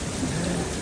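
Dense rain hisses steadily over a city street in New York during an August thunderstorm, a brief wash of falling water with a low rumbling undertone.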